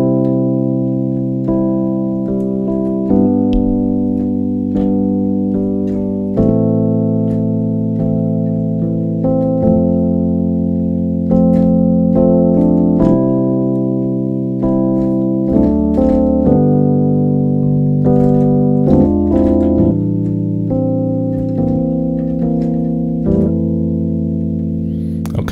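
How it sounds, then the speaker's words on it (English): A jazz chord progression with secondary dominants played on a keyboard or guitar, sustained chords changing every couple of seconds at a relaxed pace; no talking. "I'm gonna play the chord progression for you now without talking so you can hear it clearly"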